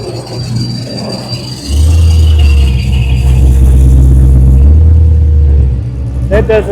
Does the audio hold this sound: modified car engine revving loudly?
yes